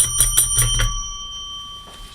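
A bell rings in a quick burst of about four bright dings, then its metallic tone hangs and fades into quiet, loud and close.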